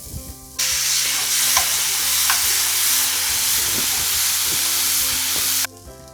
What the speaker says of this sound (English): It's time to add in the chopped carrots and green peas and saute until it becomes soft.